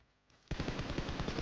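Rapid automatic gunfire from the mobile battle-royale game PUBG Mobile, starting abruptly after a quiet lead-in and continuing as a dense, loud burst of repeated shots.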